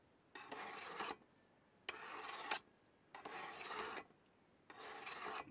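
A knife blade is drawn across a sharpening stone in four separate rasping strokes, each under a second long with short pauses between, close and fairly quiet.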